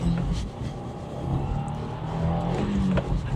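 A Subaru WRX tS in Sport Plus mode launches hard with a little wheelspin. The engine roars loud and sustained, with heavy low rumble and broad road and tire noise throughout.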